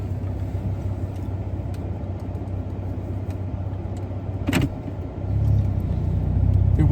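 Inside a Hyundai Genesis Coupe with the 3.8 engine on the road, a low steady engine rumble hums under the cabin noise, with a brief rattle partway through before the drone swells slightly as it pulls.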